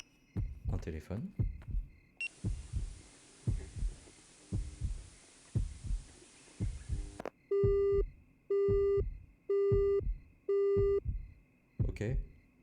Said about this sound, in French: Un téléphone.